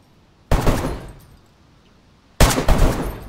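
Two sharp bursts of full-auto gunfire from a weapon in a video game base fight, each a loud rapid rattle lasting about a second, separated by a short pause and heard close with no talk.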